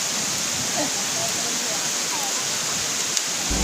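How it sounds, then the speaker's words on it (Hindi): Steady, dense rushing of rain-season water cascading like a waterfall at Panchkundi near Giroudpuri, a constant loud broadband roar with no pauses. "इधर से पानी आ रहा है, बिल्कुल झरने वाला माहौल है और बरसात में है।"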